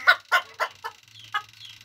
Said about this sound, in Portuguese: esse galo tá com 2 anos mais ou menos